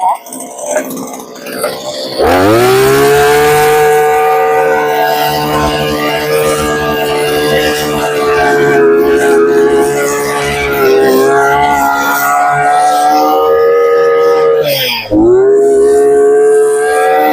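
A petrol earth auger engine fires up about two seconds in. It settles into a loud, steady running drone that dips briefly near the end before resuming.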